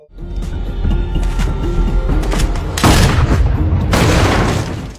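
Sniper gunfire in a Korean action film, a dense burst of loud booming shots and blasts over a tense soundtrack, with two heavier volleys near the middle and end.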